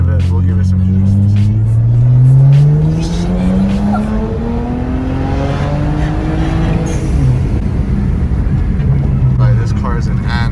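A BMW fitted with catless downpipes revs hard on an empty street, loud engine tones climbing and falling in pitch with a brief tire squeal.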